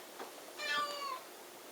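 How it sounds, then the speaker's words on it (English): A domestic cat meows beside a computer indoors: a short soft sound, then one close, clear, drawn-out meow rising and falling over about half a second. "cat likes to sit up here beside me on the computer"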